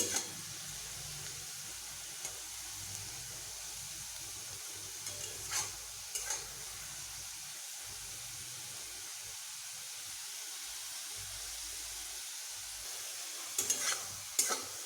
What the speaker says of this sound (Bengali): এইভাবে নরম নরম করেই আমি ভেজে নেব